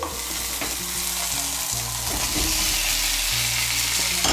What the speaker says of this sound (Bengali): এখন আমি এর মধ্যে দিয়ে দেবো ভেজে রাখা আলু আর পটল।